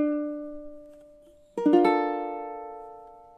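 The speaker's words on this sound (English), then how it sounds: "playing that in time on measure 24 should sound something like this" A ukulele lets a held note of measure 24 of a song ring out and fade, then strikes a fuller chord that sustains and slowly decays, solo and close.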